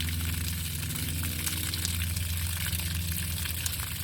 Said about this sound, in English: Emptying out the hot water heater.